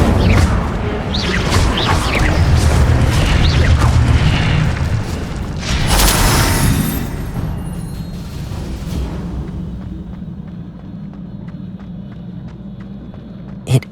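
An Incendio fire spell cast in Hogwarts Legacy sets off a loud, deep whooshing burst and rumbling boom, which then decays into a lingering hissing tail.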